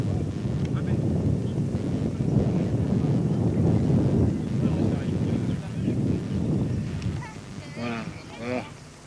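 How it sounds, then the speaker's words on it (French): A light headwind buffets a paraglider in flight, a steady, loud roaring rush of wind across the microphone, with someone talking under it near the end. "Il y a un léger petit vent de face."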